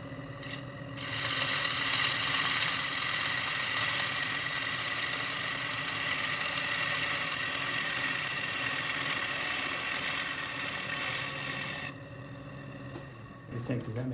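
A woodturning lathe makes cutting passes on a segmented maple bowl, a steady whirring, tonal hum with continuous scraping texture that runs for several seconds and then drops as the tool lifts away.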